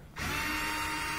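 A cordless power drill whirs steadily close up, backing out screws from the top panel of a Whirlpool dryer whose motor keeps stopping, one sustained high run starting abruptly after a short pause.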